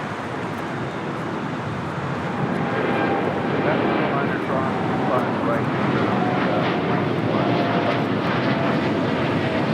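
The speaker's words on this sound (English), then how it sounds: "American Airlines Flight 2235 heading to Philly in a 787-8 Dreamliner. That is now rolling down 25 right." An American Airlines Boeing 787-8 Dreamliner bound for Philadelphia rolls down runway 25 right at LAX for takeoff, its broad engine roar building slightly and staying loud and continuous, with a voice talking over it.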